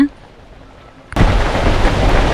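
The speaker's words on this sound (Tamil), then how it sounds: "நல்ல மழை சட சட சடன்னு அடிக்க ஆரம்பிச்சிருச்சு" Heavy rain suddenly starts pounding down near a chocolate shop at Kundala Dam, a quiet moment breaking into a loud, dense, steady roar of downpour.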